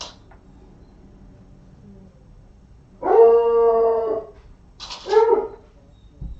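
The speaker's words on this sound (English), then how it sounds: "You'll hear her start howling when he walks in." A female dog indoors howls in one long, loud, wavering note, then gives a shorter second howl a moment later, with quiet room hush between and no talking.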